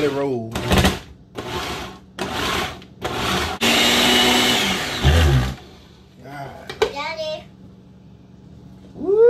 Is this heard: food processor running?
yes